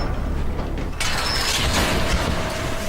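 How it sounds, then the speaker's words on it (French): Metal gate being lifted open at the entrance of an underground supermarket, a loud continuous grinding, rattling mechanism with a sharp jump in intensity about a second in. "L'entrée du supermarché souterrain est bloquée par un portail que Wyatt arrive à soulever."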